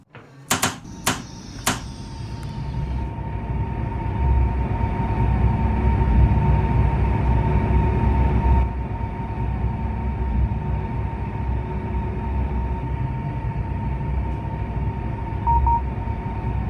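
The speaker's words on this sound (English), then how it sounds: "Then, start the train." A CR400AF high-speed train starts up: a few sharp clicks at the outset, then a steady, loud mechanical hum and whir that holds and shifts slightly in tone, with no talk.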